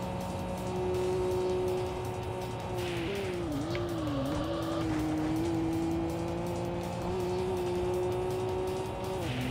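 Devil Z car driving in a racing video game, a steady loud engine drone holding one sustained pitch with a brief dip and wobble around the middle, plus faint tire noise, no voices.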